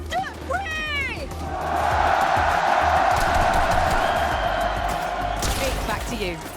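Crowd cheering at a Fortnite FNCS Legends Landing event: a large audience roars in a sustained swell of cheers and screams. A voice speaks over the opening, and the cheering peaks midway before fading near the end.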